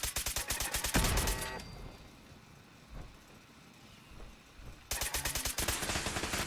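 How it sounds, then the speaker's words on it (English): Turrets in the video game Fallout 4 fire rapid bursts of automatic gunfire, with one loud rattling volley, a quieter stretch broken by a few scattered shots, and then another sustained burst. "I hear a bunch of turrets."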